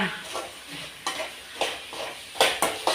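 Onions and curry leaves sauté in a pan, with rhythmic scraping stir strokes every half second or so over a low sizzle, close and fairly loud, with no talk.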